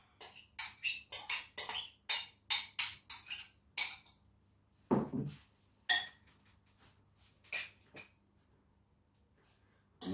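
Spoon scraping and clinking against a bowl while melted butter is stirred into breadcrumbs, a brisk run of short close taps that slows into scattered clinks with one duller thud midway.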